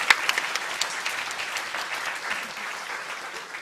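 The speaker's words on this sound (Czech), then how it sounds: "Poprosím vás potlesk pre pani Alison Kleiman." Moderate audience applause at a Central European Forum panel in Bratislava, many hands clapping steadily from the start and gradually thinning toward the end.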